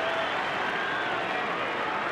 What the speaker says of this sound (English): Eagles fans giving him a huge cheer.